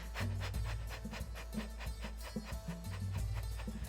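A person does a dog-like panting breathing exercise: rapid, rhythmic, quick shallow in-and-out puffs repeated steadily at close range, with no talking.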